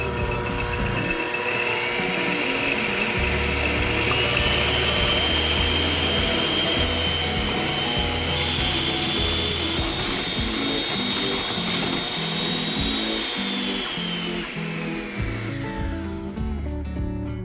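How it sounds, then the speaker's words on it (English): An electric mixer whirs steadily, beating egg whites to stiff peaks for a tres leches cake. The motor whine is continuous and close, with the beaters clattering against the bowl, and no talk is heard. "Next, we're gonna beat the egg whites until stiff peaks form."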